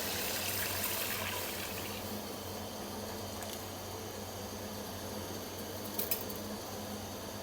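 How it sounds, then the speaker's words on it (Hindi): Chicken yakhni broth, three glasses' worth, pours steadily into a cooking pot over soaked rice, a continuous watery gush with a low hum beneath it and a couple of brief clinks near the end. "ये हम डालेंगे यखनी।"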